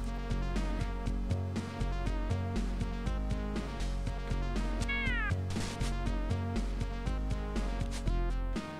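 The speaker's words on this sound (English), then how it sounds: "Fuck off, cat." A house cat meows once or twice in the room, a short rising-and-falling cry set against loud, busy retro video game music that plays throughout.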